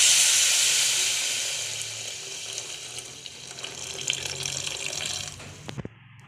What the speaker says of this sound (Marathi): आता मी त्याच्यात दूध ओतणार आहे।